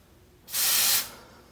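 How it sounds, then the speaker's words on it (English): A single half-second burst of aerosol smoke detector test spray from a Smoke Centurion can, a bright close hiss that starts and stops cleanly in a quiet room. "I'm gonna spray again."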